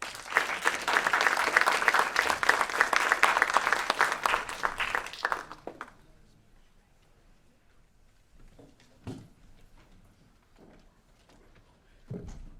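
Conference audience applause rings out loud and dense for about six seconds, then stops abruptly, leaving quiet room noise broken by a few faint thumps and stray sounds.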